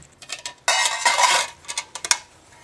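A metal military cook set being fitted into a canteen, close metallic clinks and a longer scraping slide as the pieces nest together, followed by a few light taps.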